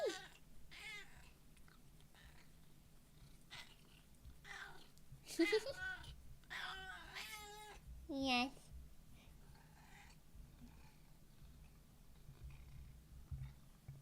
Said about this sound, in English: I hope you guys enjoyed that cat ASMR.